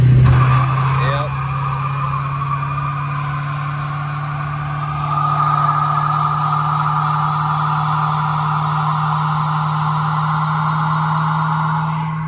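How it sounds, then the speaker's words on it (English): A V8 Mercury sleeper with a blown-up engine does a reverse gear burnout in a driveway, its engine roaring loud and steady under a long tire squeal that swells after a few seconds, with voices faintly in the background. "So we actually did a reverse gear burnout."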